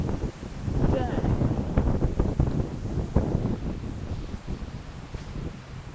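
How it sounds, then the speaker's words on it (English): Gusty wind buffets the microphone on a mountain hike above Hong Kong, a loud continuous rumbling roar with rustling that swells and eases throughout. "Boy, the wind just picked up."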